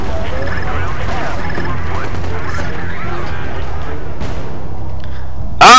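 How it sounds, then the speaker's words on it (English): Gunfire and heavy crashes in the game Prototype 2 rattle out as loud, dense combat noise with scattered bursts and impacts, ending in a sharp blast, while a player talks over it. "And all the gunfire!"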